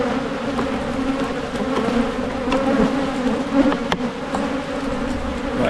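Honeybees swarm around an opened hive during artificial swarm control, a dense continuous buzzing drone close by, with individual bees whizzing past now and then.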